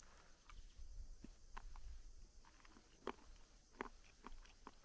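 Crunchy chocolate from a 2022 Danish military 24-hour ration is chewed close to the mic, with quiet irregular crunches and a few sharper bites in a near-silent setting.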